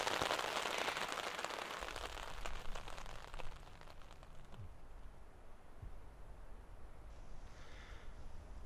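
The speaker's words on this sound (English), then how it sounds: "seeing if this rain passes" Rain falls steadily through a forest on Dartmoor in winter, a dense broadband patter that is strongest at the start and then eases into a softer, steady hiss, with no voices.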